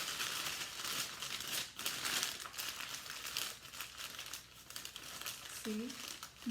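Sheets of newspaper crumpled by hand while making a paper ghost, a steady close crinkling and rustling that runs the whole time, with a brief voice near the end.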